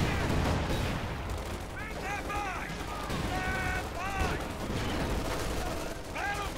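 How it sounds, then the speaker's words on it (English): Bursts of machine gun fire crackle through a Company of Heroes 2 Ardennes Assault battle, with sustained rattling volleys over a dense background of distant gunfire and explosions, mixed with shouted unit voices and whistling sounds. "Lots of that machine gun fire"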